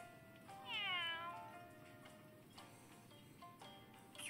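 A cat meows once, a quiet drawn-out cry, in the cat-staffed café event of the game Princess Connect! Re:Dive, followed by a few soft ticks.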